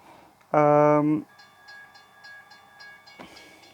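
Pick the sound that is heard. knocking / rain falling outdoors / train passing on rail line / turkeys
train passing on rail line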